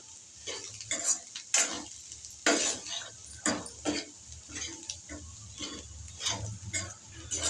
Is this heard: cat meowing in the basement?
no